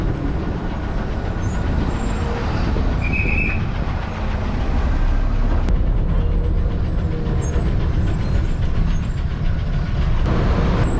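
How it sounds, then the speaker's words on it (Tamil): A loud rumble fills the inside of a city bus on the Kilambakkam to Avadi route as it pulls in to a stop, with a brief air-brake squeal and hiss under the steady engine noise. "அடுத்ததாக பஸ் இப்போ நிற்கிறது தாங்க பழந்தண்டலம் பஸ் ஸ்டாப்"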